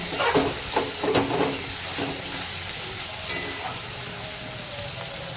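Onions fry in hot oil with a continuous hiss and sizzle, several scraping stirs early on, then a steadier crackle.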